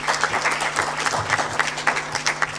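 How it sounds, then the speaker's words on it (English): An audience at a civil-society meeting on Uganda's Universal Periodic Review claps in a modest, uneven round of hand clapping, individual claps distinct over a low steady hum. "So I think James deserves another hand clap."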